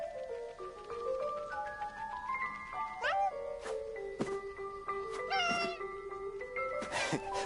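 A cat meows repeatedly in the war video game 11-11 Memories Retold, a series of rising and falling mews over quiet ambient sound, with a few sharp clanks around them.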